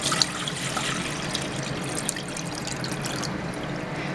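Filtered water streams steadily into a vessel for canning syrup, a soft continuous splashing trickle at moderate distance with no voices.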